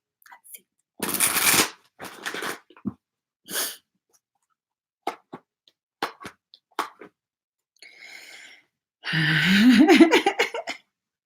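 Tarot cards shuffled in bursts, a long riffle near the start and a louder one at the end, with short card taps and handling sounds between them and no talk.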